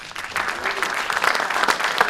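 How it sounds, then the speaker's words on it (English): Audience at a presentation gives a warm round of applause for Dr. Malama Meleisea, thick sustained clapping from a seated crowd with a few louder nearby claps rising toward the end. "let's give Leasiolagi Dr. Malama. Another round of applause."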